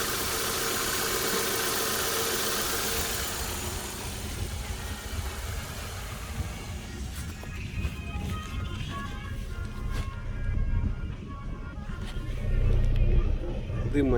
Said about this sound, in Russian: Все, завел. Двигатель работает ровно.